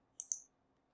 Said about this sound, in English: just let me just click on that